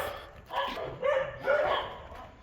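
A dog barks from up the road on an early-morning walk through Beau Bassin, Mauritius, giving three husky, mid-distance barks spaced about a second apart, with no one talking over them.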